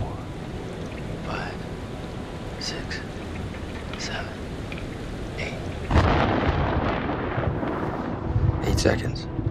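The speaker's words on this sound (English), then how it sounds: "The storm's 8 miles away." A thunderstorm in the video game Man of Medan brings steady rain and a few rolling thunder rumbles, swelling louder and denser partway through, with no talk over it.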